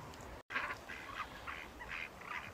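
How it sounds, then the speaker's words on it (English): A line of ducks comes up near a bridge, quacking softly and fairly steadily in short bursts, faint against light outdoor background noise. "I've got a line of ducks coming up to me."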